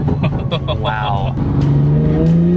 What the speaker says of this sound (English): let us take the 2020 Supra with an upgraded turbo for a spin